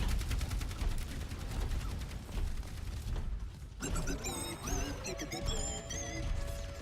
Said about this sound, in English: Artillery is popped.